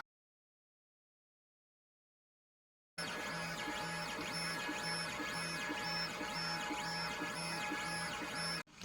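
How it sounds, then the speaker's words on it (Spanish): A small, low-cost portable laser engraver burns an image of the Hulk onto denim jeans fabric at 4000 mm/min and 80 power. After a few seconds of silence, it gives off a steady, faint whirring buzz with a fast repeating mechanical pattern. "Estamos imprimiendo el increíble Hulk sobre la tela del jean."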